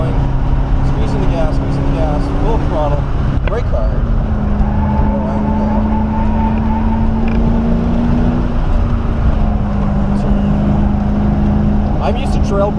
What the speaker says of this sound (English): squeezing the gas, full throttle, brake hard